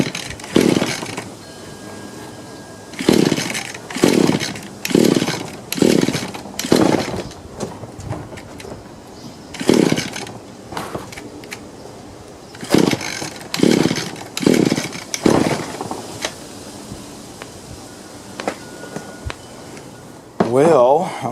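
An Echo PE-200 two-stroke edger is pulled repeatedly on its starter cord with the choke on, making a series of sharp rasping pulls in two quick bursts with a lone last pull, and the engine never catches.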